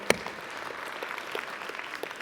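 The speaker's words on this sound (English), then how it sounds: "Everybody give Zach a round of applause." Audience applause fills a church, a steady, fairly quiet patter of many hands clapping together for about two seconds with no voices over it.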